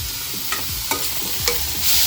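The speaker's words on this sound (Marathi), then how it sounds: "आता गॅस आपण मिडियम फ्लेमवर करून हे आता परतून घेणार आहोत कंटिन्यू हलवायचं" Vegetables for veg manchow soup being stirred and sautéed in a pan over medium flame, with a steady sizzle and a few sharp scraping strokes of the spatula at intervals, close up and with no one talking.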